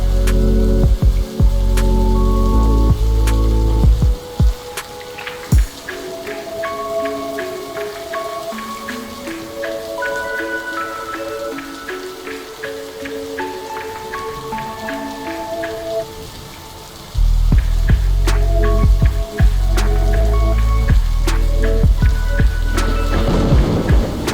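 Heavy monsoon rain in Tamil Nadu, a loud continuous downpour with sharp drops and rumbles, easing briefly in the middle before returning at full strength.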